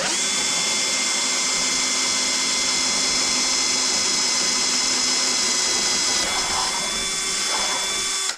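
A power drill with a 6mm bit bores M6 holes in a DIY 18-inch subwoofer enclosure, giving a loud, continuous high whine that holds steady for about eight seconds before cutting off abruptly.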